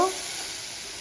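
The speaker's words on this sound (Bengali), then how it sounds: "এবার আমি মশলাটাকে খুব ভালো করে একটু কষে নেব" A steady, even sizzle of tomato, ginger, garlic and green chilli paste masala frying in a pan for an egg and potato curry, close and continuous, with a brief clink at the start.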